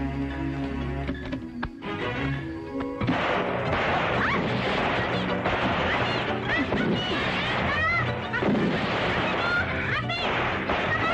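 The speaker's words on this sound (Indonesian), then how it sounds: "Itu stok kembang api siapa nyalain?" Fireworks from a stockpile in a box go off in a dense, continuous barrage of loud crackles, bangs and whistling bursts, close by and filling the whole stretch.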